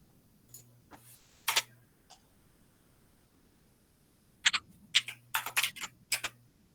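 Clattery bursts of typing on a computer keyboard, two short flurries separated by a pause, with the later burst denser and louder, fairly close in a quiet room with no talk.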